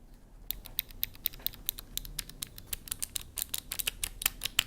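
Keys of a Vissles LP85 slim wireless opto-mechanical keyboard pressed close to the microphone, a rapid irregular run of crisp light clicks and clacks, no voices.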